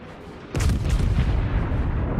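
The secondary guns of the battleship Friedrich der Große fire in World of Warships, a sudden heavy booming burst that breaks over a low hum and then rumbles on in deep overlapping blasts.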